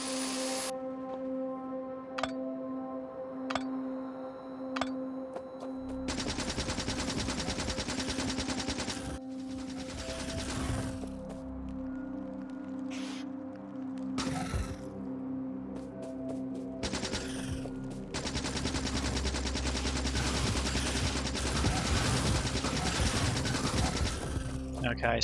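Rapid automatic turret gunfire in the Factorio video game mowing down biters, dense fusillade bursts running under game music, with heavier sustained volleys in the second half.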